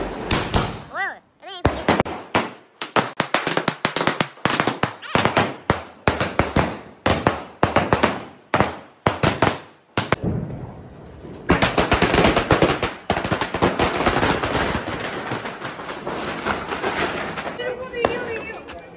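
A 30-shot Diwali firecracker fires off in rapid, loud bursts close by, a long crackling volley with short gaps, while people talk around it.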